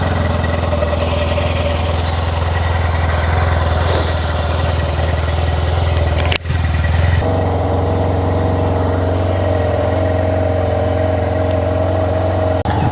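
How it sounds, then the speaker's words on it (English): A Yamaha Tmax 500 motorcycle idles steadily close by with a low, even, continuous engine hum, interrupted once by a brief click before the idle carries on. "Start the bike, and here how she runs"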